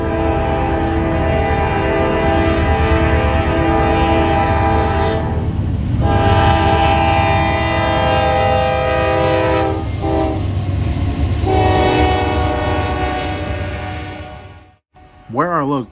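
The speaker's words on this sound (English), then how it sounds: "I will admit the GE had a pretty nice horn on him." A GE locomotive leads a Norfolk Southern freight train, its loud, sustained horn chord blaring over the rumble of the passing train for most of the stretch, with brief gaps before the horn cuts off near the end.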